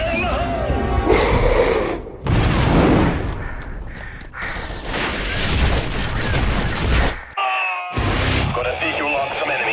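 Grenade blasts and gunfire in the Star Wars: Republic Commando game: several loud, broadband explosive bursts and crackling shots in quick succession, with brief gaps between them and radio-style voices speaking over the combat.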